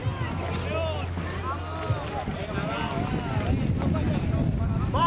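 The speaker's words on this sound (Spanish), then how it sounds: "Ha estado seguido por lanchas." Motorboats escort a swimmer on the Ebro reservoir, their engines droning steadily alongside wind buffeting the microphone, while someone talks over them throughout.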